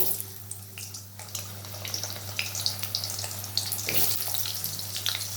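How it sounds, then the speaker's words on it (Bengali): Potato pieces fry in hot oil, giving a steady, fairly quiet sizzle with faint crackles and scattered clatters from the pan. "তেলটা আমার গরম হয়ে গেছে দিয়ে দেবো আলুটা"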